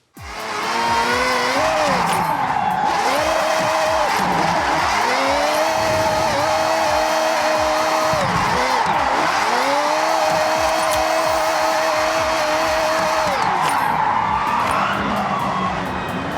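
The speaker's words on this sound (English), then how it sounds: "you would throw your car into a drift by hitting the e-brake and brake pedal at the same time" A car drifting in the racing game Forza Horizon 6, a loud sustained engine whine rising and falling with gear changes, accompanied by long screeching tire squeals through the slides, continuous and close throughout.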